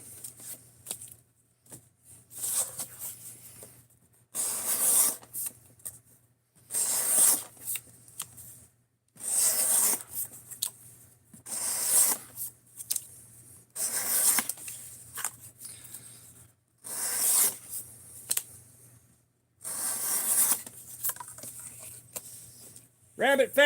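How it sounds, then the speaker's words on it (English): Knife stropped on cardboard, giving repeated rhythmic scraping strokes in bursts of a second or two with brief gaps between them, close and crisp. "we're giving her what for with the cardboard"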